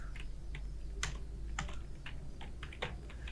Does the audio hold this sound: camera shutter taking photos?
no